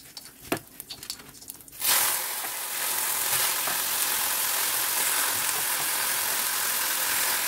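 Okra and eggplant frying in a pan start with a sudden loud sizzle after some light clatter, then settle into a steady, close crackling hiss that continues throughout.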